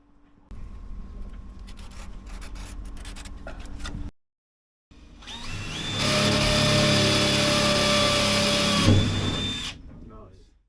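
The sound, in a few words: power drill drilling holes in roof corners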